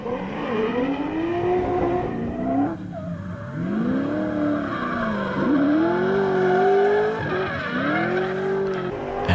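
A BMW E30 race car at speed during a timed competition run, its engine loud and close, revving up and easing off repeatedly as it pulls hard through gear changes and transitions.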